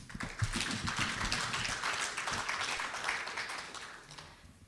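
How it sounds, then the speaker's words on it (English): An audience claps in steady, dense applause throughout at the launch of Rwanda's FP2030 commitments, fairly loud and sustained before tapering off at the end. "How about another round of applause?"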